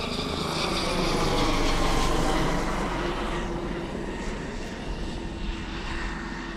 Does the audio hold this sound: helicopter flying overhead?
yes